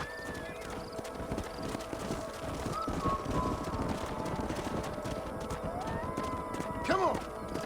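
Horse hooves clip-clop steadily in Red Dead Redemption on the Switch, a continuous trotting rhythm that stays close and loud throughout, with a short whinny rising near the end over the game's background sounds.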